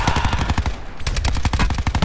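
Rapid automatic gunfire from a BMP armored vehicle's cannon in Call of Duty Black Ops 4, loud and continuous bursts of shots filling the clip with a short lull in the middle.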